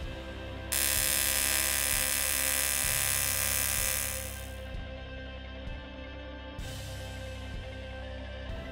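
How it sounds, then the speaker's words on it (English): Razor 200 AC/DC TIG welder running in AC mode, a steady loud buzzing hum with a sharp hiss, with faint regular pulsing, a slight fade midway and a brief restart later, with no talking. "Step 5, TIG welding."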